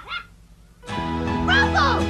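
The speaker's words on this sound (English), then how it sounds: "That bark sounds like..." A single dog bark sounds in a cartoon scene, followed at once by a full orchestral music cue that swells loudly over it.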